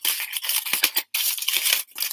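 A crumpled reflective sheet is pulled open, giving loud, close crinkling and crackling in irregular bursts with one short pause partway through.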